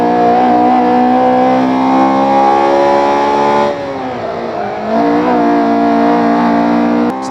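A Honda Civic EP3 Type R engine in Assetto Corsa, racing at the Nurburgring, holds a loud, steady high-revving drone, briefly dropping in pitch as it shifts, then climbing again.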